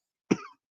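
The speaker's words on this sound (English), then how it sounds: "I apologize for my cough" A single short cough from a man hosting a sports talk show, close and clear against silence.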